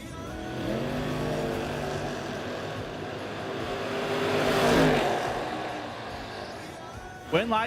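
Drag race cars at a footbrake drag racing event accelerate off the line, a loud rising engine roar that swells and passes, heard under a track announcer's voice.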